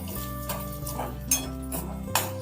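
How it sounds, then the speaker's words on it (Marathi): Peanuts roasting in hot oil in a pan for sabudana khichdi, with close metallic scraping and clinks of a utensil against the pan, a few sharper knocks, and a low steady hiss beneath. "तर आता तेलामध्येही थोडंसं शेंगदाणा आपण भाजू द्यायचं"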